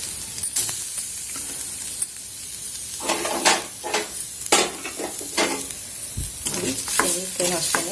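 Grated coconut stirring and sizzling in a hot pan on low heat, a steady crackling sizzle with scraping spoon strokes that come in bursts over several seconds.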